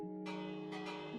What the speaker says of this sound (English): let's just ring the bell real fast